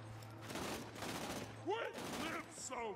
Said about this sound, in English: Sounds like someone has a burst fire SMG down there